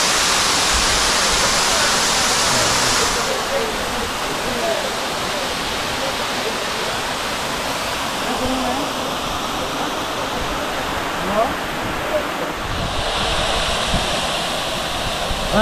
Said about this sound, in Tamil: பாருங்க இந்த அருவி,